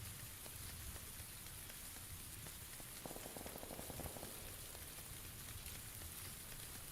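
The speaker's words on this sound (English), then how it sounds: "Plus the rain muffles everything." Rain falls in a battle-royale video game, a steady hiss of drops pattering on surfaces, soft and continuous throughout with no talk.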